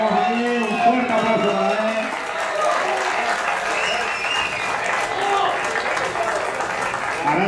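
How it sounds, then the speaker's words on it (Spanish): An audience applauds at a trophy ceremony for a regional motorcycle speed championship race at a circuit. Steady clapping continues throughout, mixed with a presenter's voice and cheering. "un fuerte aplauso para él"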